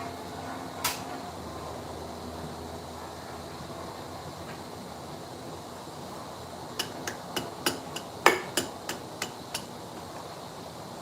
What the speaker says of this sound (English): a breaker bar used as a hammer?